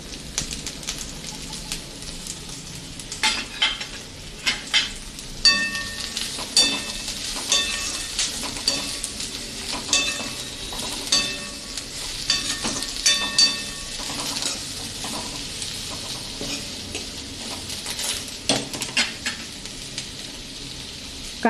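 Vegetables with capsicum and onion sizzle steadily in a hot pan while being stirred for spring roll filling, with a constant frying hiss and repeated close scrapes and taps of the spatula.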